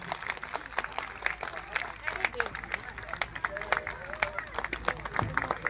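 An audience at a large Hindu convention gathering in Mayur Vihar claps for a child, with scattered, uneven hand claps over a steady murmur of crowd noise.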